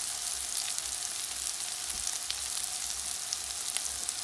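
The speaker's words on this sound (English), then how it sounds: "So you put the meatballs in the pan and brown them each side." Meatballs browning in a frying pan over low heat give off a steady, even sizzle and crackle that runs without a break. It sounds moderately quiet and close, with no talking.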